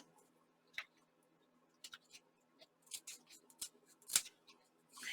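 Scissors cutting off a paper piece for a junk journal card, with quiet, scattered snips and clicks spread irregularly through a near-silent background.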